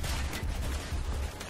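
Gunfire in Call of Duty: Black Ops crackles in a dense, rumbling barrage, loud and continuous with overlapping shots and a heavy low-end rumble throughout.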